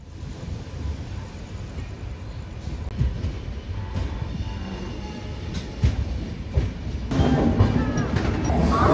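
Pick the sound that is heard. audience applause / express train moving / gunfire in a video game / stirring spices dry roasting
express train moving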